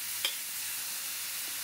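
A chickpea stir-fry is stirred in a hot pan, a steady soft sizzle running throughout with one brief scrape of the spoon near the start.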